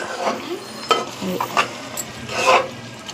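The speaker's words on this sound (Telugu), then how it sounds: "కొంచెం కొత్తిమీర, కొంచెం కరివేపాకు వేయాలి. తర్వాత మళ్ళీ ఫ్రై అవ్వాలి." Chicken frying in a pan with coriander and curry leaves, a loud close sizzle punctuated by several scraping stirs against the pan, no voices present.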